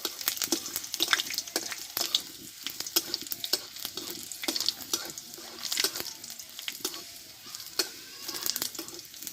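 Whole garlic cloves, a dried red chilli and nigella seeds frying in hot oil for a cauliflower dish, a continuous close sizzle with sharp sputtering pops and occasional stirring scrapes, no voices.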